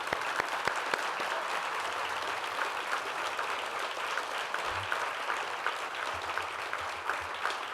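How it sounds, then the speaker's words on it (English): A luncheon crowd applauding host committee members, sustained even clapping from many hands in a room, moderately loud and continuous with no pause. "if we could all give everyone a round of applause,"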